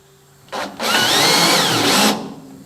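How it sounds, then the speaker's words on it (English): A battery drill on slow speed drives a tap into a metal hole with cutting fluid, a steady close whirring whine that spins up, holds for about a second and a half, then stops, with no talk. "stick the tap in your battery drill, put it on slow speed"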